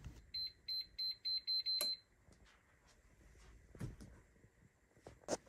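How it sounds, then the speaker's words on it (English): A room UV light sanitizer beeps a warning in a steady run of six short, high tones before switching on, followed by quiet room noise and a few soft clicks and thumps. "You can hear it start beeping, but when the beeping gets faster, that's when it's about to come on"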